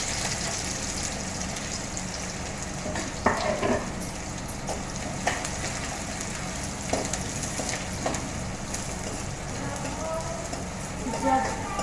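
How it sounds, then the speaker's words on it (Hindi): Onions go into mustard seeds crackling in hot oil in a home kitchen, giving a continuous frying sizzle with occasional sharper pops and clatters of stirring, and no voices over it. "तो राई तड़क चुकी है और हम इसमें डाल देंगे प्याज"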